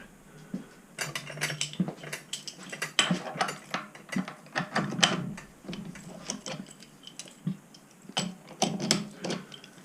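A metal vise is opened with a run of close, crisp mechanical ratcheting clicks, in rapid irregular bursts with brief gaps.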